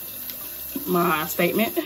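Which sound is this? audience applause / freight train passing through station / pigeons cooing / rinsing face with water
rinsing face with water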